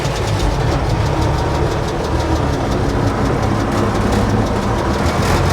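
A Mercedes Unimog cab-over truck with no power steering turns around while its diesel engine runs loud and close, a steady rumbling drone with a rapid rhythmic knock throughout.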